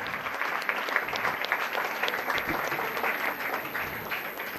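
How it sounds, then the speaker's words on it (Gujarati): An audience at a Women's Day event claps steadily for several seconds, a dense wash of applause from a mid-sized crowd with no voices standing out. "એકવાર જોરદાર તાળીઓ થઈ જાય બધાની માટે"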